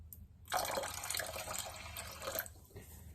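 Water poured from a freshly opened bottle into a glass bowl, a steady close pour lasting about two seconds with a soft start and a tapering finish.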